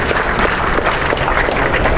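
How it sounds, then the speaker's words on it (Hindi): An audience at a political speech event applauds loudly, a dense, steady wash of clapping that holds for the whole two seconds with no voices above it. "जोरदार तालियां बजाएं।"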